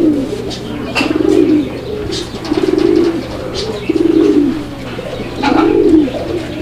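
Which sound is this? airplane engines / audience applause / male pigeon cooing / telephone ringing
male pigeon cooing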